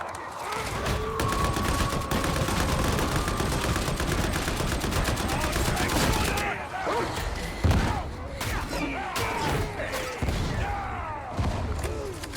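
The Agripinaa braced autogun fires in Darktide, a long stream of rapid, loud gunfire that breaks into shorter bursts mixed with heavy thumps and impacts.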